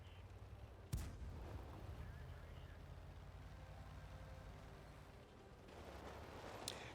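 Tank cannon fire in the video game World of Tanks on the Erlenberg map, with a sharp distant-sounding shot near the start and another later, over a constant low rumbling engine drone.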